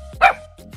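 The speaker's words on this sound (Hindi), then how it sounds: "बहुत तेज है, देखना अभी भौंकेगा।" A German Shepherd dog gives one loud, sharp bark close by, followed by a quieter yip, against a low background hum.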